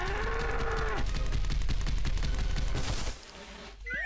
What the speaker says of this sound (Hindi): ये भैंसा तो पीछे ही पड़ गया लॉन्ग शॉट में।